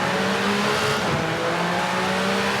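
A Renault Alpine rally car engine in the game V-Rally 4 drones and revs continuously with a synthetic game-like tone, tires faintly squealing, with no voices.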